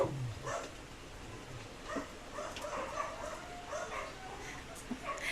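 Several dogs at feeding time in a muddy yard whine, yip and bark intermittently at moderate distance, a restless overlapping chorus with faint background activity.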